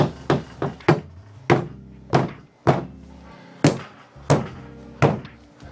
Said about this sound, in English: I've got padding now on my hammer.